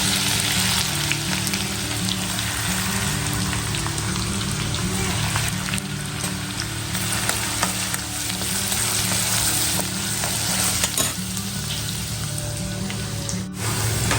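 Chopped garlic frying in oil for Schezwan chutney, a dense, even hiss of sizzling close by with faint crackles and a low hum, steady throughout without voices.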